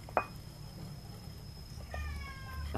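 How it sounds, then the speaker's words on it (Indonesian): A cat meows nearby outdoors, with one short call at the start and a longer, louder meow near the end over a quiet background with a faint steady whine. "ada kucing lewat ternyata, mengeong"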